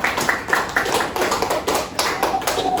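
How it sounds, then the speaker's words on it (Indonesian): Classroom of students applauding a presenting group, loud, close clapping in uneven bursts that repeat every half second or so. "Tepuk tangan untuk kelompok yang maju."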